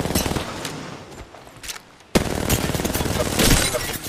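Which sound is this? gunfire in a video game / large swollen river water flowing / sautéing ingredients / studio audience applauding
gunfire in a video game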